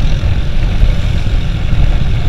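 Suzuki Intruder 125 motorcycle with an overheated engine, idling: a loud, steady low-pitched engine rumble close by, continuous with no pauses.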